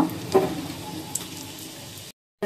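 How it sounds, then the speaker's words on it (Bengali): Onions hit hot oil in a wok and fry with a steady, close crackling sizzle that runs evenly and then cuts off abruptly into silence near the end. "এবার আমি কড়াইয়ে পেঁয়াজ দিয়ে দিচ্ছি। আমি পেঁয়াজগুলো ব্রেস্তা করে নেব।"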